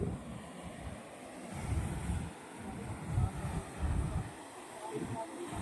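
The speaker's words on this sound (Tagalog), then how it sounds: "Mahampas talaga yung alon din, oh." Ocean waves surging against rocks on the coast of Hernani, Eastern Samar, a low churning roar that swells and fades, buffeted by heavy wind noise on the microphone.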